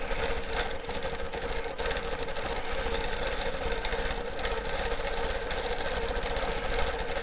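A longarm quilting machine stitches a pebble fill at 10 stitches per inch, giving a steady, continuous mechanical whir with a fast needle rhythm throughout, close and even in loudness.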